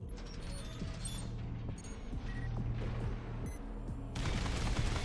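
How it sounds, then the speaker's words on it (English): Rapid machine gun fire from Armored Core VI Fires of Rubicon, a steady rattling burst under low game hum, with mechanical clicks and a louder stretch near the end. "Oh, we have a machine gun."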